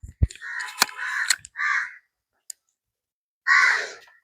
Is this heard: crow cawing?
yes